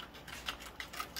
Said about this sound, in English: So you can see I'm just cutting off the edges.